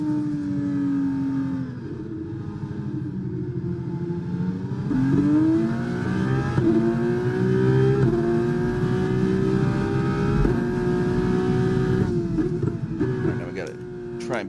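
F2 race car in the F1 25 video game at Monaco, a loud engine revving up through several gear changes, each rise ending in a quick step down, with someone talking over it.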